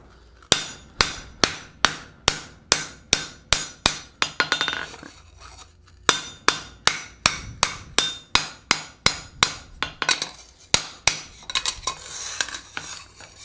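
A blacksmith forges a round fold-formed bowl, hammering hot metal against the edge of an anvil. Sharp ringing blows land in quick steady bursts, a dozen or more at a time, with short pauses between runs.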